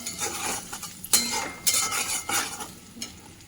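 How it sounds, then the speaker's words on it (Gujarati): A spoon scrapes and stirs turmeric into a sizzling pan mixture in a home kitchen, with soft frying hiss and a few sharp metallic scrapes against the pan, close up and without talk. "એને થોડી એમ કરી લેવાનું હલાવી લેવાના."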